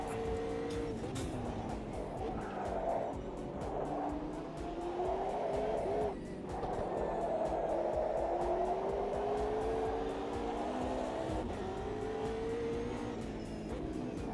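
A McLaren GT3 race car driven in the Automobilista 2 sim racing game, its engine note revving and shifting in rising and falling sweeps through a long stretch, with squealing tires and a steady, continuous drone.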